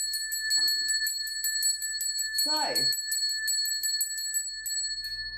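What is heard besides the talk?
ringing a small bell for an altar to Oshun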